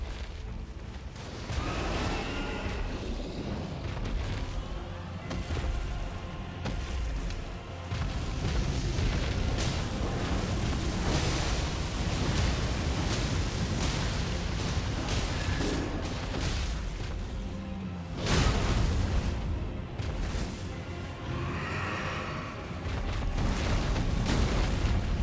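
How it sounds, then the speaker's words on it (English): Dragon fire breath in the video game Elden Ring Nightreign roars as a loud, sustained blast with rumbling booms, fades briefly, then surges again, filling the scene with dense, continuous noise. "Don't get burnt by the dragon fire"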